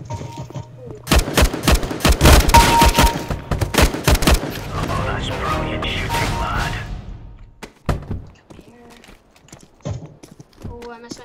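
Rapid bursts of automatic gunfire from a CS:GO match crackle loudly for several seconds, then a few scattered shots follow, with players talking over the shooting.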